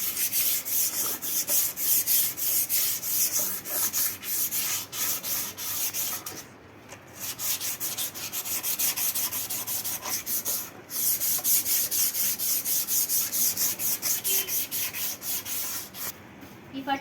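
Wood being sanded by hand with sandpaper, a steady rasping scrape of close, continuous strokes with a few brief pauses.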